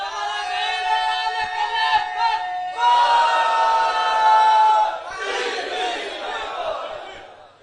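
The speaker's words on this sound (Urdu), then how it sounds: "بزرگ نعرے لگا رہے ہیں، نوجوان تھکے ہوئے" A large crowd at a religious gathering in Sialkot chants slogans in unison, voices rising in sustained, forceful bursts with a brief lull between calls, loud and reverberant.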